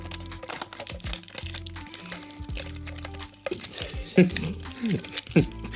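Packaging wrap on a Shrouded Fable mini trading card tin being torn open by hand, close crinkling and crackling bursts of plastic, sharper rips near the end, with a person talking over it.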